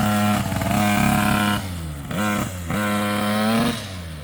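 A Taylor RC 80cc engine on a Raminator RC truck revs loudly and close, a buzzy two-stroke whine rising and falling through several throttle blips.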